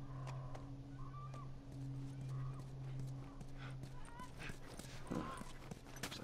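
A horse in the video game The Last of Us, with hooves clopping irregularly nearby and a brief snort or whinny toward the end, set against quiet outdoor ambience and a low steady drone.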